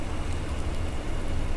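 Steady rain in Farming Simulator 19, a dense, even hiss of falling drops, close and fairly loud, with no other sounds standing out.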